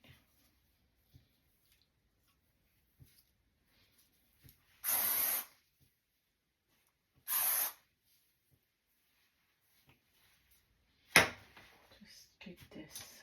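Two short, loud bursts of hair spray for bouncy curls on short hair, each about half a second and a couple of seconds apart. A sharper clatter follows, with quiet rustling between.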